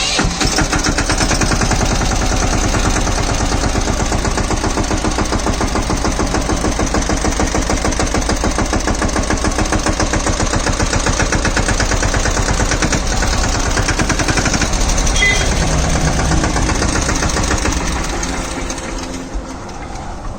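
A Mahindra Yuvaraj 215 NXT tractor's single-cylinder engine runs close and loud with a rapid, even chugging beat that holds steady, then eases slightly near the end.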